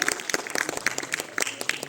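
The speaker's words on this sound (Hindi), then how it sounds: "एक बार जोरदार तालियां बजा दीजिए इनके लिए" An audience breaks into dense, lively applause, many hands clapping at once throughout.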